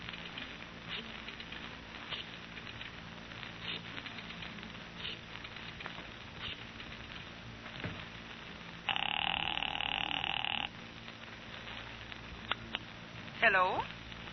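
A telephone bell rings in an office in an old radio detective drama, one steady burst of about two seconds set against a busy background with voices.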